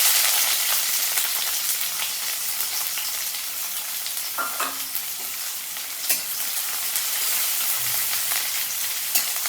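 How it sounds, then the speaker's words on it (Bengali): Chopped onions fry in hot oil with whole dry chillies for a bottle gourd and prawn dish, a loud continuous close sizzle with scattered pops and light stirring scrapes throughout. "পেঁয়াজটা আমি লাল লাল করে ভেজে নেব।"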